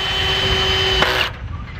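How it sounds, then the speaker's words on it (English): A power tool whirs at a steady high pitch for about a second, then cuts off abruptly, leaving faint background noise. "Power tool."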